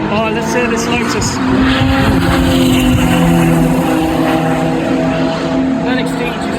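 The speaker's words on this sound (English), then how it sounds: "let's hear this Lotus." A Lotus sports car roars past on the circuit at a Donington Park track day, its engine loud, sustained and droning throughout with a slight swell midway, voices talking faintly beneath.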